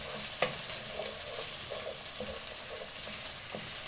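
Carrots are mixed into vegetable fried rice in a hot pan, a quieter steady sizzle broken by regular spatula knocks and scrapes every half second or so, with no voices.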